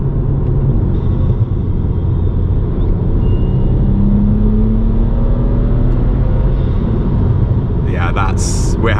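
A BMW E90 335i engine drones loudly and steadily from inside the cabin while driving and downshifting, a deep continuous rumble with a brief higher whine near the end, with a voice talking over it.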